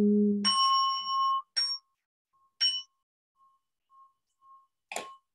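A bell rings at a Buddhist gathering. A low tone gives way to a bright ringing strike that fades, then three more sharp strikes with faint pings in between.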